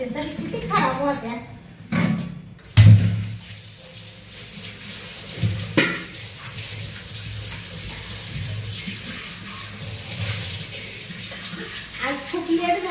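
Tap water running into a metal pot in a home kitchen, a steady splashing gush heard beneath conversation, with occasional knocks and clanks of vessels.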